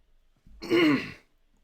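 A single short throat-clearing cough, close and fairly loud, in an otherwise quiet room.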